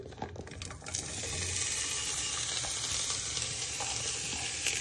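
Onion, garlic and pepper drop into hot olive oil in a pan and sizzle steadily; a few sharp clatters open the clip before a loud, continuous frying hiss fills the rest, with no talking.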